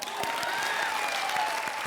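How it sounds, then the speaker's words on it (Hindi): A crowd claps in sustained, busy applause on the Comedy Circus TV comedy stage, with a faint tone drifting underneath. "तालियां!"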